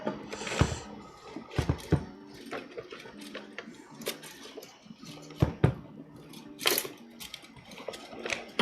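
A Prusa Core One 3D printer loading filament, giving irregular mechanical clicks, ratcheting gear whirs and soft knocks close by, with brief bursts separated by quieter gaps.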